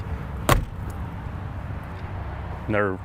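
The windows of a 2021 Cimarron Norstar 3 horse trailer's living quarters open and close, with a sharp clack near the start and a brief sliding rasp near the end over a quiet background.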